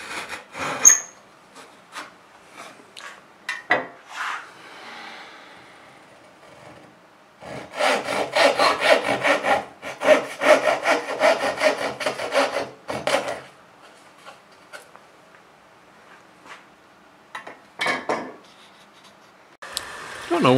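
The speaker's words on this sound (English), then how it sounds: "I'm just cutting off the excess to create that haunched tenon." A hand saw cuts off excess wood to form a haunched tenon for a chest of drawers, in close bursts of rhythmic rasping strokes separated by quiet pauses, with the longest run in the middle.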